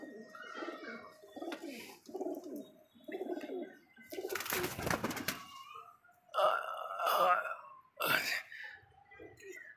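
Three captured pigeons coo in a series of low, throaty burbling calls close by, with some rustling and a brief louder flutter midway.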